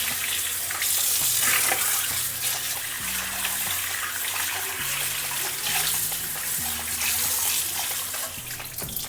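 Bangda (mackerel) fish tava fry on a flat iron griddle at home: loud, continuous crackling sizzle of oil throughout, with intermittent scraping and shifting of the fish on the pan, no talking.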